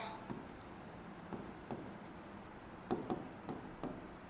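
Chalk or marker scratches across a board during a maths lecture on quadratic equations, coming in short, quiet strokes at irregular intervals with pauses between them, close by, while no one speaks.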